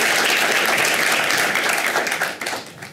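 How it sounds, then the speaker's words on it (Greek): Audience applause at a stand-up comedy show, a dense, steady wash of many hands clapping that fills the room and tapers slightly toward the end, with no talk over it. "Ένα χειροκρότημα για όλους σας εδώ πέρα."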